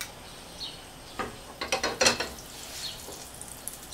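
A gas stove burner knob is turned to medium high, giving a few close clicking, ratcheting turns clustered in the middle over a quiet kitchen background.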